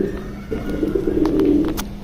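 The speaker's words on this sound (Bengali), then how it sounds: "আর্মি লাইনের কবুতর।" Army-line breed pigeons in a pigeon loft, cooing close by in a short rolling phrase over a low background hum.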